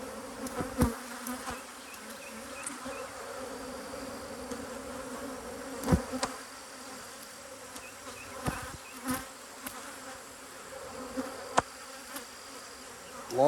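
Honeybees swarm around an open beehive at an apiary with a steady close buzzing drone, while occasional soft clicks and handling knocks sound from the hive work.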